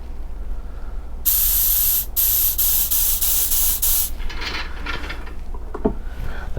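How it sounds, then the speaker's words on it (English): Compressed air blasts through a Honda carburetor from a loose nozzle in a loud, steady hiss lasting a few seconds, broken by short pauses, then fading into quieter intermittent puffs and faint clicks. "so I'm going to blow it out with air"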